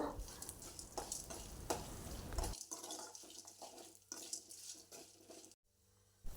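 Chilies and curry leaves crackle and sizzle loudly in hot oil, then the frying quiets to a lower hiss with stirring scrapes before a brief silence.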